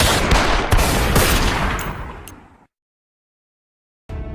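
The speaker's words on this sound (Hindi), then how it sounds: "तभी जोर जोर से 3 से 4 गोली चलने की आवाज आती है" A rapid burst of loud gunshots cracks out several times in quick succession, then cuts to silence before a brief sharp sound returns.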